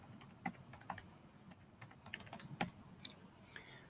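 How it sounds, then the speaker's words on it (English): Fingers tap numbers into a calculator, a quick uneven series of light, close clicks with small gaps, alone without speech. "you just type it in your calculator"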